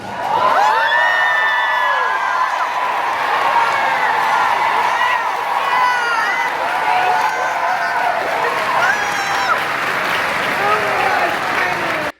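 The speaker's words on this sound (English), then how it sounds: "this had the biggest cheer from the crowd of the weekend" A large D23 convention crowd cheers, whoops and applauds continuously at the reveal of Cinderella Castle's classic color scheme, a loud sustained roar with shouting voices throughout.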